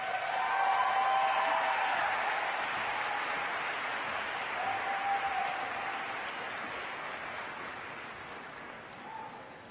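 A high school graduation audience applauds the valedictorian in a long, steady wash of clapping that slowly tapers, with a few voices calling out over it.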